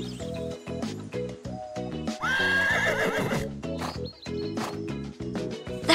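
A horse neighs and whinnies loudly over bright cartoon-style music, with a few hoof clip-clops. The whinny is clear and up close.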